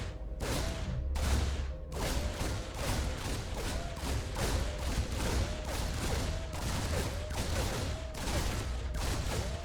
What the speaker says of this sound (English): 3 Reapers firing away at a hatchery